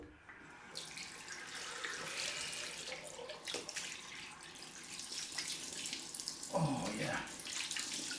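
Water tap running for a cold rinse after a straight-razor shave: a steady close splashing stream, faint overall, with water shifting under hands near the end and someone briefly speaking.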